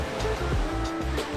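Surf washing onto a Barcelona beach in the evening, a steady low wash of breaking waves close by with no voices over it.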